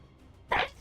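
One short, sharp human sneeze bursts out close to the microphone after a moment of quiet, followed by a faint breath.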